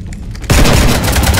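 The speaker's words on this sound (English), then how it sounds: "You want to stop shooting up my ship?" Gunfire in the video game Mass Effect 3 erupts as a sudden loud burst after a brief quiet start, then continues as sustained, dense shooting.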